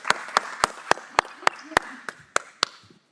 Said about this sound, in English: Let's give them a big round of applause to second grade and third grade parents,